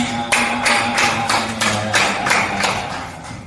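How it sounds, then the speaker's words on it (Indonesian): An audience claps together in a firm, evenly spaced rhythm, each burst crisp and close, repeating about three times a second over faint background murmur. "Silakan duduk, kasih tepuk tangan."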